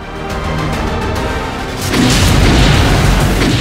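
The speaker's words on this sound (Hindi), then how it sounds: "गजा में धमाकों का ये वीडियो इजराइल ने बनाया है" Explosions in Gaza roll out as heavy, rumbling booms, a sustained roar of blasts that grows louder and fuller partway through, with no talking.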